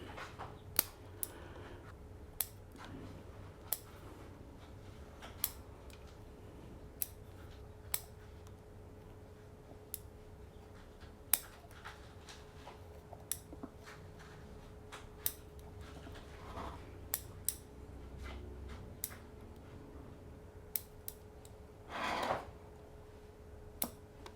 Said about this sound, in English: I will come in and kind of remove some of the longer shoots or any branches like this one